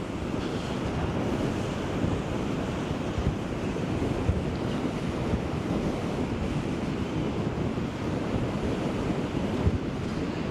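Strong wind roars and buffets continuously, mixed with the rush of surf on a Florida beach at Sand Key, a dense unbroken outdoor noise with no voices.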